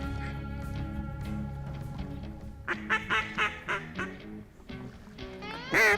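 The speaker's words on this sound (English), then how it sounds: "Here's a wood duck." A wood duck calling on the Mississippi River in low fog, a few short, rising squeals repeated in bursts over a droning background, fairly close and without talk.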